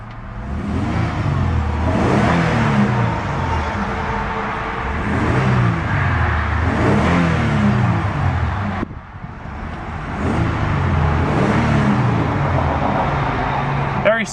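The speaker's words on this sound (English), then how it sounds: "Sienna comes with a 3-liter V6. Nice and quiet. And let's go and see how it sounds." A 1999 Toyota Sienna XLE's 3-liter V6 runs steadily at close range, with its engine note swelling in a few rev surges and a brief dip midway, while a person talks over it.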